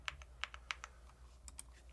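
Quick keystrokes on a computer keyboard during a live coding practice session, faint and close, a handful of light taps in an uneven rhythm over a low steady hum.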